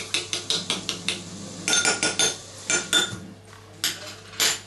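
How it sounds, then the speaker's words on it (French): A small teaspoon clinks and scrapes steadily against a bowl while stirring melting chocolate for a chocolate cake, giving a close, rhythmic series of metallic taps with no talking. "Donc vous prenez une petite cuillère, vous mélangez un peu."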